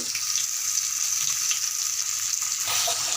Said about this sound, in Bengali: এখন আমি মাছটা ভেজে নিচ্ছি